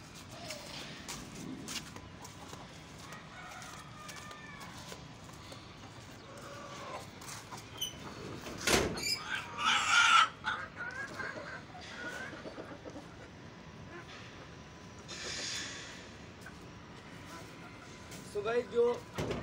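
Misri, Desi and Aseel hens clucking on and off in a yard, with someone talking over them, footsteps and a door or gate rattling partway through.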